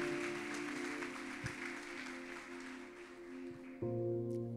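A church congregation claps together during a worship service, a moderate wash of many hands over sustained organ or keyboard chords that swell louder near the end.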